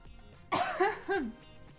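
Three quick coughs come one after another, close and fairly loud, from a person with a slight cough, with a quiet indoor background and no speech between them.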